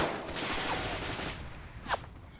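Rapid gunfire in the WWII shooter Red Orchestra: Ostfront 41-45 crackles in a quick burst, followed by a sharper, louder shot near the end, somewhat distant and fairly faint.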